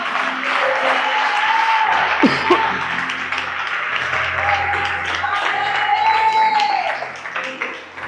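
A church congregation applauds steadily throughout, with broad clapping filling the room under a sustained tone and a voice speaking over it.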